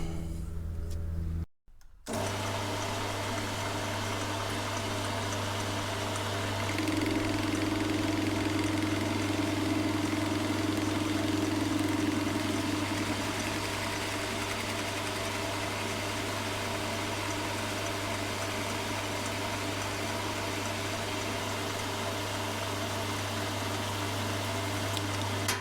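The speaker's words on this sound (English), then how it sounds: "that bit there we've just parted off on the lathe should screw straight onto that thread there" A metal lathe runs with a steady mechanical hum while parting off a threaded metal nipple, a constant loud drone throughout with a brief cut-out near the start and a slight added whine in the middle.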